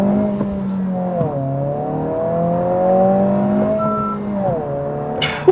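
A 2026 Honda Civic Si cruising in sixth gear at highway speed near 1900 RPM, with a steady low engine drone and rising and falling harmonic tones, held close and continuous throughout.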